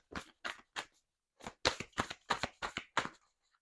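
Tarot cards shuffled in a quiet room, a series of crisp, close papery riffles and slaps in short bursts separated by brief pauses, growing quicker toward the end.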